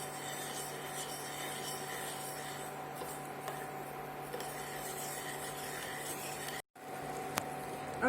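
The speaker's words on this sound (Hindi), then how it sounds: "तो इसे हमें शक्कर मेल्ट होने तक आप इसको स्टीर करते रहिए" Sugar syrup is stirred in a pan while the sugar melts, giving a steady close scraping and rubbing of a spoon against the pan, with a brief break near the end.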